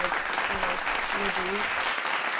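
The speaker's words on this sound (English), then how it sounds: "Round of applause, guys, please" Applause from a small podcast audience, a steady broadband patter of clapping lasting a couple of seconds, with brief voiced sounds over it.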